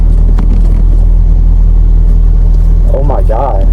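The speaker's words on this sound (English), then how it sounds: "Goes into gear." A mini truck with a clutch problem idles with a loud, steady low engine rumble; a brief mechanical shift into gear comes near the end, followed by a short burst of speech.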